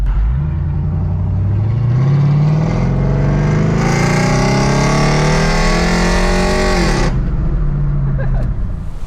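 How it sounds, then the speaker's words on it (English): A Dodge Dakota R/T with Scat Pack mufflers pulls hard at full throttle, its deep muffled roar climbing steadily in pitch for several seconds before easing off, heard from inside the cab. "I'll give you guys one wide open throttle pull from inside here"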